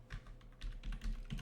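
Quick light clicks of typing on a computer keyboard while entering an e-mail address, a short burst of several keystrokes close to the mic in a quiet room.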